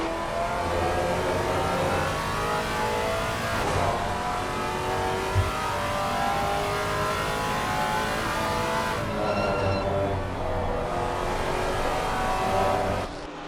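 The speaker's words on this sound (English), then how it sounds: "A criminally underrated road car, the Maserati Gran Turismo. And it is quite the soundtrack." A Maserati GranTurismo V8 race car in a GT4 Pro/Am Cup race at Kyalami sings loudly as it accelerates through the gears, its engine note rising and falling with brief lifts between shifts.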